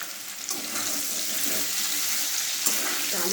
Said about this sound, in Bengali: এই আলু চচ্চড়ি জল দিয়ে দিলাম।